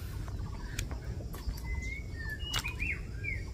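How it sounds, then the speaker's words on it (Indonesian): White-rumped shama (murai batu) calling in the wild, distant and faint, a few whistled phrases with rising and falling notes over steady low background noise. "Murai batunya."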